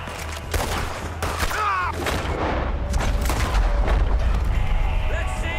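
Gunfire from a Red Dead Redemption 2 shootout, several sharp shots scattered over a steady game soundscape, with voices calling out through the action.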